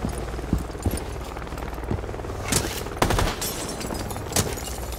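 Gunfire in a Rainbow Six Siege bank team deathmatch, scattered sharp shots and short bursts cracking over a constant low rumble of game ambience.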